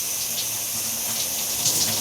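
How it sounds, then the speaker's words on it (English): Shower water running steadily in a bathroom, a continuous close hiss of spray with no voices. "I'm in the shower"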